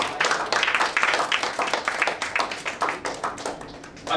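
Loud, lively clapping from an audience at a recruitment training talk, with many sharp overlapping claps in an uneven rhythm that rolls on for several seconds and swells again at the end.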